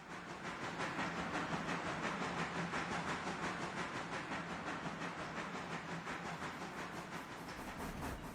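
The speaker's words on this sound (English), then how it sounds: "here comes the passenger carriage train" A passenger carriage train in the Railroader video game rolls past close by, a steady rumbling clatter with rhythmic wheel clicks and hiss that holds constant throughout.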